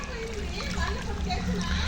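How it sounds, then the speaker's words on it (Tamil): Water gushes and splashes from a pipe irrigating coconut trees outdoors, a continuous close, loud watery rush heard under people talking. "எல்லா மரத்துக்கும் இவங்க தான் தண்ணி பாய்க்க போகிறாங்க இப்போது"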